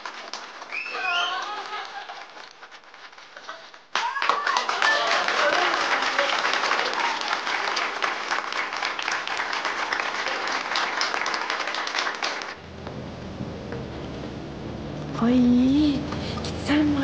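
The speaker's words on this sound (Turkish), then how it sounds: "Ya bu manzarayı bu millet alkışlıyor." A group of people bursts into brisk clapping that holds for about eight seconds, preceded and followed by quieter moments with soft pigeon cooing and people talking nearby.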